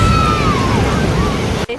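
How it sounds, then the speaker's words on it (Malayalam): Strong beach wind buffets the microphone in a loud, continuous low rumble, dropping out abruptly near the end. "സൗണ്ട് ക്ലിയർ ആവണ്ടോ എന്ന് അറിയത്തില്ല, നല്ല കാറ്റാണ് ഗൈസ്."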